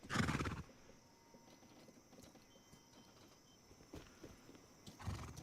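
A horse in the video game Rust lets out a whinny at the start and another near the end, with soft, sparse hoof-like patter in the quiet between.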